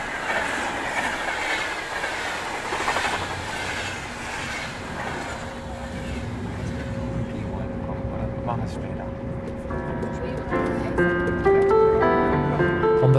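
Passenger train on the Stuttgart to Terezin line rolling along rails: steady rumble and rhythmic clickety-clack with some wheel squeal, under people talking aboard the carriage.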